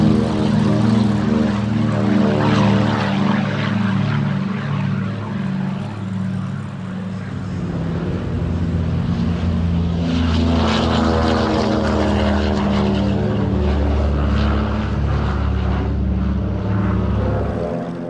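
WWII Douglas Dakota propeller aircraft flying at an air show, a loud sustained droning engine roar that swells and shifts in pitch as the planes pass close, with no talk.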